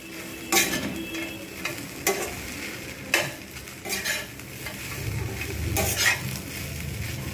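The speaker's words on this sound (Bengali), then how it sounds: "ভালোভাবে এটাকে নেড়ে নিতে হবে" Bread pulao fries in a pan, a continuous close sizzle broken by several loud scraping stirs of a utensil against the metal, with no voices.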